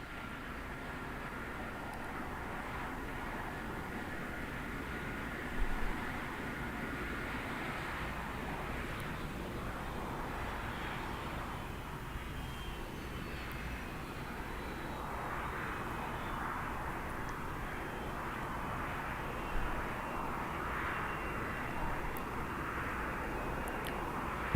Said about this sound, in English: the arrival of the shuttle carrier aircraft here to the shuttle landing facility